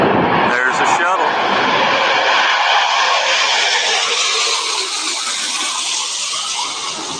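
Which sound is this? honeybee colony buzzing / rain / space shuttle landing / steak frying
space shuttle landing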